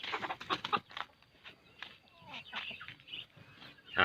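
A young rooster clucks in short, close bursts while someone talks nearby.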